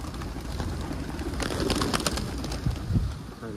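Wild pigeons coo steadily in a flock, soft low calls overlapping near and far against a continuous outdoor rustle, with no talking.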